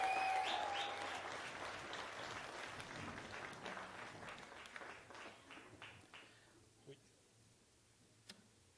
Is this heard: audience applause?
yes